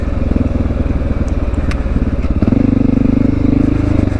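Honda XR650L dual-sport motorcycle ridden on a valley trail: a loud, steady single-cylinder engine thump heard up close, pulling harder partway through with a rise in pitch.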